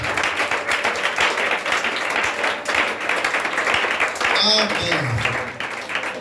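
A church congregation applauds in dense, sustained clapping filling the room, with voices and a short spoken word heard over it near the end.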